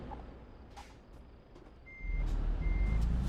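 A truck reverses in Euro Truck Simulator 2, its backup alarm giving steady evenly spaced beeps over a low engine rumble that swells louder as it backs up.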